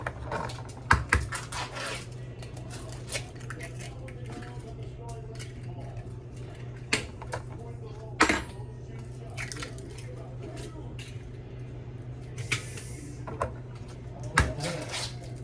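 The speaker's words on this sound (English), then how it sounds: "I start cracking some eggs in my bowl" Eggs cracked one after another into a bowl while making homemade mozzarella sticks, heard as a few sharp, close taps spaced well apart over a steady low hum.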